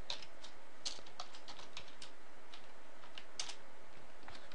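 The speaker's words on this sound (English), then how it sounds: "we'll type in the name of our delegate" Rapid, uneven clicking of keys on a computer keyboard while code is typed, close and fairly quiet, with short bursts and small pauses throughout and no voices.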